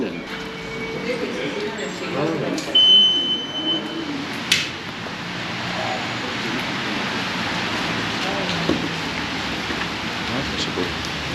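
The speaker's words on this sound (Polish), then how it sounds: "Pada deszcz." Rain falls steadily in a constant wash of hiss, with a few faint knocks and tones in the background.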